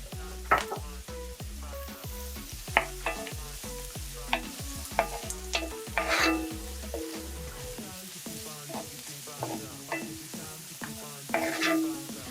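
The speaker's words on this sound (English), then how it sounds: "I'm letting it fry for a minute or so" Onion, garlic and a few pieces of scorpion pepper frying in oil in a pan, with frequent stirring and scraping clatter over a steady low sizzle, fairly close and moderate in level, no talking.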